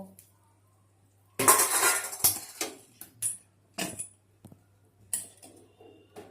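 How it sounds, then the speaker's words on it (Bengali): A metal lid is set on a pot of kosha mangsho meat curry, with several loud clanks and clattering knocks close by between short quiet gaps. "ঢাকনা বন্ধ করে দিলাম"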